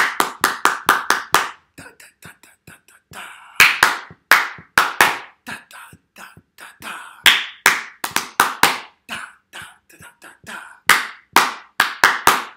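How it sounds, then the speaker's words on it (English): Hand claps in a clap-back game, close and crisp, falling into repeated rhythmic phrases of loud quick claps broken by quieter, sparser stretches. "Never clap this one back"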